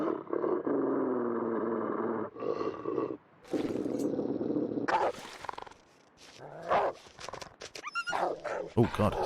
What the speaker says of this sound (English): we're going to hear the barking